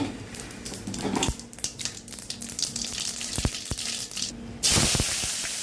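Mustard seeds splutter in hot oil in a pan for a wedding-style tiffin sambar. Sharp, irregular pops and crackles rise over a hissing sizzle, and a louder burst of spitting comes near the end.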